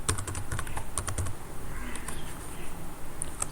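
Rapid clicking keystrokes on a computer keyboard while entering a name into a spreadsheet, a quick close burst of taps that thins out into a few scattered presses, no talking.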